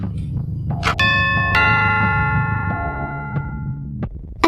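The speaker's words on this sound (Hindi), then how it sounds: "घर की डोरबेल बजी।" A doorbell chimes twice, bright ringing tones that linger and fade, heard close and clear over a faint low background hum.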